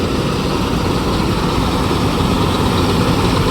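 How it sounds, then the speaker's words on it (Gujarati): A combine harvester runs continuously while cutting a wheat field, giving a loud, steady engine drone with a heavy low rumble and no pauses or voices. "જો હાર્વેસ્ટર ચાલુ છે"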